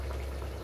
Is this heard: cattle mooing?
no